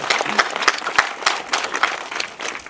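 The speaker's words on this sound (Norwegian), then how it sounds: "det fortjener en applaus" Applause at an outdoor rally in support of Israel in Norway, a crowd clapping in dense, uneven bursts for nearly three seconds with no voices on top.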